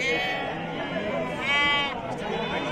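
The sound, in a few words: sheep bleating at a sheep market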